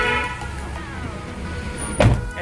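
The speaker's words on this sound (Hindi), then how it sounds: "अभी भी हॉर्न मार रहे हैं, कोई फर्क नहीं पड़ रहा।" A car horn sounds close by over a running engine on a car whose dead battery is being charged, ending with a sharp knock.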